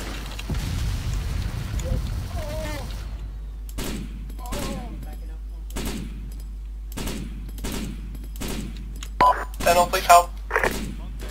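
Gunfire in the military shooter game Arma, played as a Folk ARPS session: after shouted voices, sharp shots crack out roughly every second, with a few tight bursts near the end.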